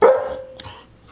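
A dog gives a single loud, close bark that trails off into a brief whimpering whine.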